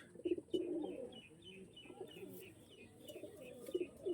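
Domestic pigeons kept for sale, including a blue female, coo softly in repeated low throaty bursts, fairly faint and close, with a few brief chirps mixed in and no talking.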